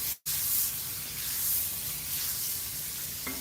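Butter sizzling in a hot frying pan, a steady close hiss with a brief dropout near the start.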